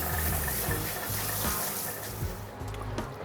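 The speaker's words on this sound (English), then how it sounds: "This is the fresh rinse water." Fresh rinse water runs and splashes steadily from a tap while a Cavoodle puppy is groomed at a grooming salon, a close continuous gush with small splashy surges.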